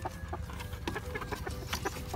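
Native chickens cluck close by inside a backyard coop in the Philippine countryside, giving a quick run of soft, repeated clucks over a short stretch without any talk.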